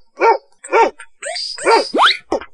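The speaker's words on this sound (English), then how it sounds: "dog," A dog barks several times in quick succession, loud and close, with a springy boing-like effect among the barks in a cartoon-style animal sound.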